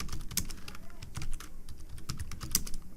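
Typing on a computer keyboard while writing HTML code, a close run of irregular, quick key clicks with brief pauses and no talk over it.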